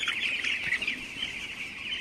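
Native village chicken clucking near a poultry farm; a close, continuous run of chattering clucks over two seconds, with no voices.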